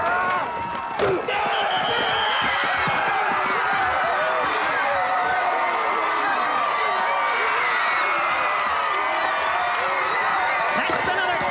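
A homecoming football crowd roars and cheers for a touchdown, a loud, dense and unbroken wall of shouting throughout, with voices talking over it.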